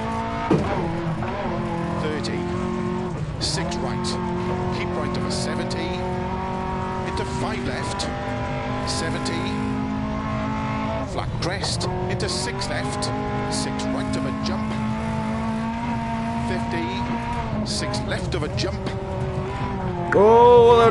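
Lancia Fulvia rally car in DiRT Rally 2.0, its engine revving hard and dropping through gear shifts as tires scrabble and squeal over a gravel stage, loud and continuous under a co-driver's pace-note calls and a driver talking.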